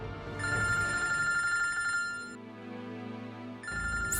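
A telephone rings with steady electronic bell-like tones, loud and close, pausing briefly before ringing again; no one speaks.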